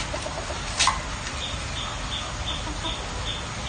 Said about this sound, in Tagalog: Nag-inita na naman yung mga alaga kong manok.